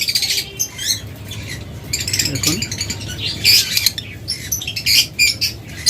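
A pair of Pallid mutation lovebirds gives bright, repeated chirps and squawks, close by and fairly loud, while someone talks over them.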